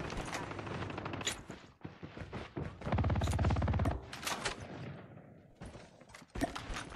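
Rapid automatic gunfire from a gun in the video game Call of Duty Mobile, with sustained bursts and scattered single shots, the densest burst midway, loud and close.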